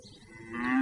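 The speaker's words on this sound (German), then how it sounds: "ich habe doch nur eine Kuh" A cow gives a single short moo that swells in loudness as it rises, heard close and alone with no talk.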